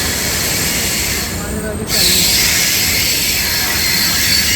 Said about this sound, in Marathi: बाबूनी बघा मालगाडी चालली